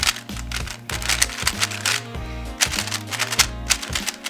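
Rapid, crisp plastic clicks from a GAN 13 Maglev magnetic speedcube being turned fast, loud and close, in dense bursts with brief pauses, no voice over them.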